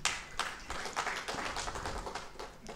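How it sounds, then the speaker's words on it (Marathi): Scattered clapping from an audience at a literary award ceremony comes in at an awkward point, a thin, patchy spatter of hand claps, fairly faint and a few seconds long. "टाळी चुकीच्या जागी पडली."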